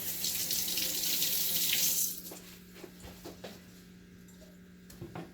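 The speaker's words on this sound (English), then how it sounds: "we're going to splash it a few times with some water." Water from a kitchen tap splashes onto a vegan chik'n patty for about two seconds, a steady rushing spray that cuts off, followed by faint clinks and soft handling sounds.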